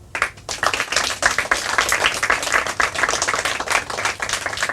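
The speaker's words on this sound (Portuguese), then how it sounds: "Uma grande salva de palmas para todos eles." An audience claps enthusiastically, a dense patter of many hands that starts abruptly and keeps going steadily.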